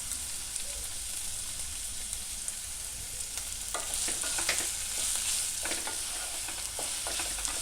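Onions sizzle and fry in a pan with salt for a mushroom stew, a steady close hiss with occasional stirring scrapes and spatters and no voices.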